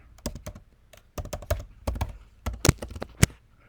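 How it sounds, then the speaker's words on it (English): Password being typed on a computer keyboard: a quick, irregular run of close, crisp key clicks with a few heavier thumps, alone with no talk. "And then I'm going to type in a password."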